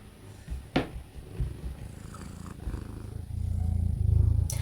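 A cat purring close by, a low rumbling drone that swells louder toward the end, with a few soft rustles and bumps from the cat moving around.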